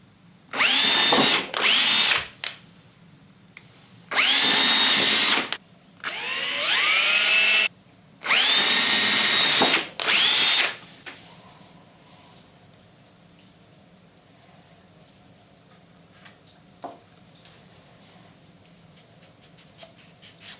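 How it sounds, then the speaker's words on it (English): A power drill with a 1/8 inch bit whines in four short bursts drilling a pilot hole in PVC, spinning up and down with brief gaps, then stops, leaving quiet room noise and faint handling sounds. "drill a pilot hole with a small drill bit"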